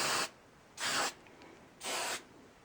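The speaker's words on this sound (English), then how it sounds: "I'm going to start off by spraying the tree with some hairspray." Hairspray from an aerosol can hisses onto a model railroad tree in three short bursts, close and crisp, with quiet pauses between each spray.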